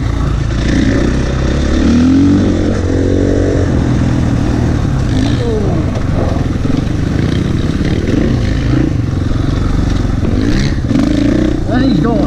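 A KTM 450 or 500 EXC dirt bike rides hard, its engine revving and clattering loudly up close through shifting gears for several seconds, with no talk.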